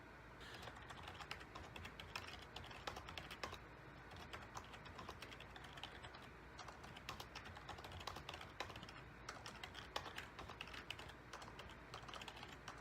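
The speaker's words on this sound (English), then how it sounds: "Man, I cannot type." Someone typing on a computer keyboard: a quiet, continuous stream of rapid, irregular key clicks, heard close with no voices.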